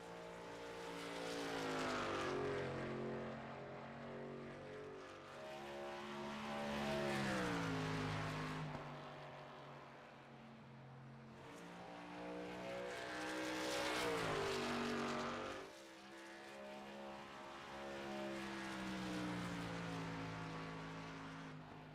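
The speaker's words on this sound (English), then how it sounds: "Shane Wagner hits the track, the number 26 Chevy Silverado" The number 26 Chevy Silverado race truck roars around the track at the Rock, its engine rising and falling in pitch through repeated upshifts and passes, loud and continuous with no voices.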